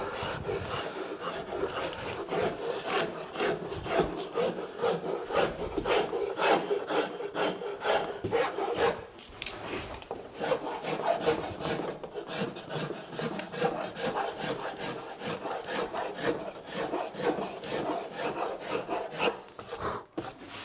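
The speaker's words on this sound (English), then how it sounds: "This is a number 50 Nicholson. So you could also clean up the roughness with a rasp." A Nicholson number 50 rasp files a carved wooden spiral seashell in fast, even, rhythmic rasping strokes, close and continuous with a short pause midway.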